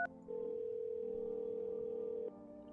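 A steady telephone dial tone from a phone inside a horror video game drones on unbroken for about two seconds, then cuts off, with faint game ambience underneath.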